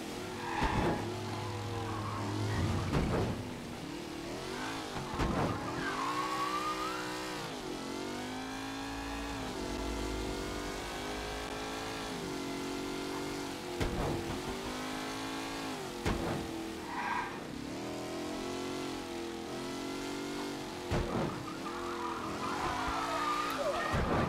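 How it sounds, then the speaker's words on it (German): A souped-up, heavily built car in Mafia 3 drives with its engine revving up and down in repeated surges, fairly quiet overall, with a wailing siren-like tone at times and no talking. "hier jetzt wieder mit dem ultra harten, überzüchteten Auto des Todes hier rumfahren."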